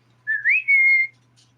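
A pet bird gives a single clear whistle lasting under a second, a rising then level tone broken into a few connected segments, close and loud against a quiet room with a faint hum.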